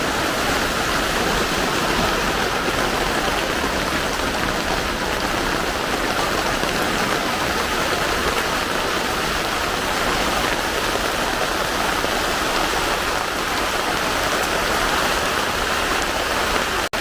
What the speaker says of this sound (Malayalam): മഴ തുടങ്ങി.